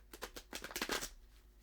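A rapid flurry of card-shuffling riffles, crisp papery flutters in quick succession, fairly close and quiet, ending in a soft settle.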